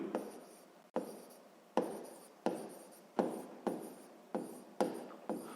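Pen strokes scratching across paper while a sixth-grade math exercise is written out by hand, a run of about eight short bursts each starting sharply and trailing off, close and alone with no talk.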